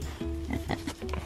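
A pig grunting near a water barrel during nipple-waterer training, a few short, soft snorts spaced across the moment.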